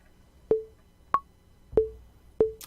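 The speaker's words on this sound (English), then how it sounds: "if you set your metronome to 95" Visual Metronome app ticking at 95 beats per minute: four crisp, evenly spaced clicks, the second higher-pitched as an accent, isolated with no talk.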